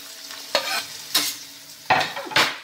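Onion and tomato fry in a pan, with four distinct scraping stir strokes over a soft, steady sizzle.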